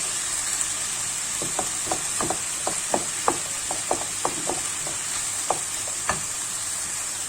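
Garlic and a minced meat and vegetable filling frying in a pan, a steady close sizzle punctuated by a series of sharp utensil scrapes and taps as it is stirred.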